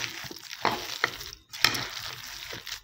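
Kulekhara chop batter being mixed by hand with spices, black cumin and water, giving soft squelching, slapping strokes at an uneven rhythm, close and moderately quiet with no talk.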